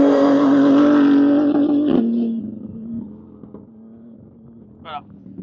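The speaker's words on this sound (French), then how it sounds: "il va réaccélérer, et les voitures, elles font un son de dingue" A prototype race car, with loose parts hanging beneath it, gives a loud, steady engine howl that cuts off abruptly and drops to a low, rumbling idle.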